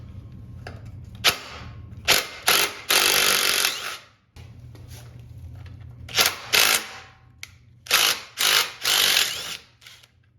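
A hand ratchet loosens a bolt during the teardown of a rare Polaris 3-wheeler, with bursts of rapid clicking and sharp clacks, close up, separated by short pauses and a low hum.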